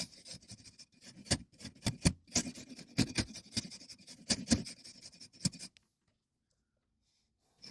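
A carving tool held flat shaves the skin of a pumpkin, producing close, scratchy rasping strokes in irregular bursts that stop abruptly, leaving silence.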